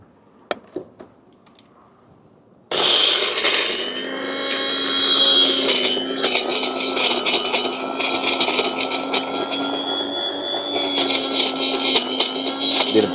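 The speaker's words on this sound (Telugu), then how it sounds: "సో మన మిక్సీ రెడీ." A kitchen mixer grinder starts after a few quiet clicks and then runs loud and close. Its whirring motor drone holds steady for about ten seconds.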